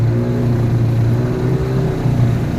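A new Huangjie 40 HP outboard motor runs at hard throttle on its first outing, giving a loud, steady, close-up engine drone with a strong low hum and no voices over it.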